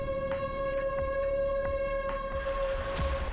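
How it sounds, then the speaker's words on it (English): Tornado warning sirens wail across the town of Emerson, Iowa, a sustained steady tone holding loud and unbroken from start to finish, with faint low rumbles beneath. "Sirens were already blaring."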